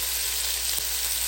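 Onions sizzling in butter in an Instant brand Dutch oven, a steady close frying hiss that holds evenly throughout with no talking.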